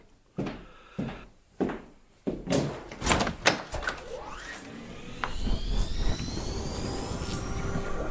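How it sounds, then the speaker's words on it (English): A door opens in a radio drama sound effect: a few sharp knocks and a handle clunk, then the door swings open and a rising whoosh of rushing air fills the space, close and clear with no talking. "A gust of air whirled round me as I opened the door."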